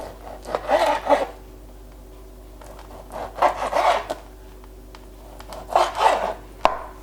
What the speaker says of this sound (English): which I'm cutting into slices about 2 centimeters thick